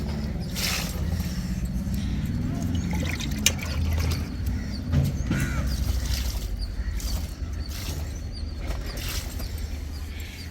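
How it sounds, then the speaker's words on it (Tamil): Liquid solution is poured onto a plant in a rooftop terrace garden, a soft steady trickle and splash into soil over faint low background hum. "இப்போ இந்த செடிக்கு நம்ம ஊற்றி விடலாம்"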